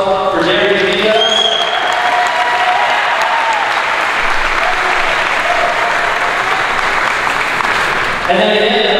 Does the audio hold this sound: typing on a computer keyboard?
no